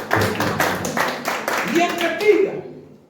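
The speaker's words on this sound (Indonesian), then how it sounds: "Beri tepuk tangan yang luar biasa" A church congregation gives a burst of clapping during a sermon, with sharp rhythmic claps in the first half that thin out as a preacher's voice takes over.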